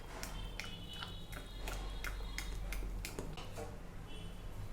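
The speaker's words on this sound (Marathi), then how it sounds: "आणि हे आता छान मिक्स करून घेऊयात." Suji mango cake batter being mixed in a bowl, with repeated scraping clinks of a utensil against the bowl in an irregular rhythm, close and fairly quiet over a low background hum.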